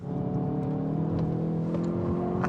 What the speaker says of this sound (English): Now we've got to get some laps in the i30N here at the Nordschleife in the dry.